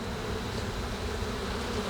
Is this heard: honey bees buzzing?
yes